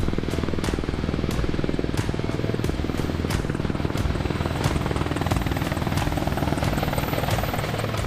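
An Apache attack helicopter flying close and loud, its rotor thumping in a steady fast rhythm over a continuous engine roar for the whole stretch.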